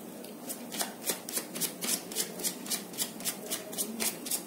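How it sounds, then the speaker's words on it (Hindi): Tarot cards being flipped and shuffled by hand during a reading, a steady run of quick crisp card snaps about four per second, close and even. "बहुत सारे कार्ड्स फ्लिप हो गए"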